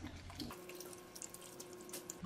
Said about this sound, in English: I'm gonna take it to sink and rinse and drain it